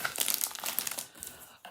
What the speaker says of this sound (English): So I'm just shuffling the cards up again